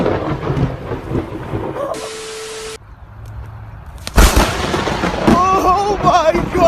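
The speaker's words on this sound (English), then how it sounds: "Lightning strike right in front of me." A powerful lightning strike lands close by outdoors during a storm, with a sudden loud thunder crack near the middle that gives way to a sustained rumble, as excited voices talk over the storm before and after.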